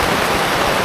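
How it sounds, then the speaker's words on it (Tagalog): Strong wind and rain roar as a steady, loud wash of noise with no breaks and no voices. "Lakas ng hangin at ulan."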